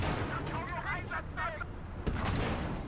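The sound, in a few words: Soviet 45mm M-37 anti-tank gun firing in video game Gates of Hell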